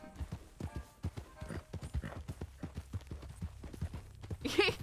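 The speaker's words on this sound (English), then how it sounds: "You hear the thundering of hooves" Rapid horse hoofbeats in the video game Red Dead Redemption 2 (RedM roleplay) clip-clop in a steady galloping rhythm, fairly close, ending with a brief horse whinny.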